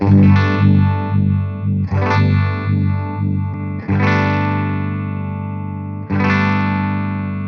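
Electric guitar chords through an amp modeller's chorus effect, struck four times and left ringing, with a wavering, swirling shimmer and some grit, loud and up close, no voices.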